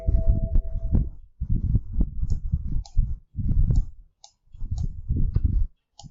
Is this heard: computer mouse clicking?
yes